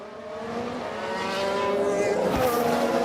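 F1 race cars from F1 Manager 23 overtaking on the Bahrain circuit, engines droning steadily and rising in pitch with a louder pass near the end, commentary-like voice faintly beneath.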